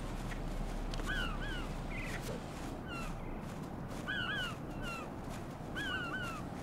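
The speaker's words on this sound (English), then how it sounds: "I blame the seagulls." Seagulls calling in the Metal Gear Solid 2 video game, repeated shrill two-note cries in short bursts over a steady dense background rumble, moderately distant, with no talking.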